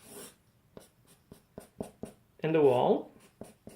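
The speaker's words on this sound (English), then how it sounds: "let's see how we can draw it on this paper here." Pen or marker strokes on paper while a physics diagram of a mass on a spring is drawn, short scratchy strokes repeating at an irregular rhythm, close and fairly quiet, with a brief spoken phrase in between.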